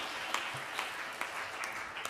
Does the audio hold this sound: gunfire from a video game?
no